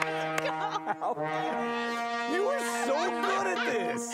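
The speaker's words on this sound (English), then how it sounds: "It's called the Viking lure" A Viking lur, a Nordic horn instrument, sounds in long, wavering brassy tones under a voice, moderately close with a few swooping bends.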